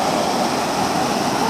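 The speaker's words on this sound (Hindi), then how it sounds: "छोटा सा झरना।" A small waterfall at Dudhdhara near Amarkantak, India, gives a steady, close rush of falling water with a constant hiss and no voices.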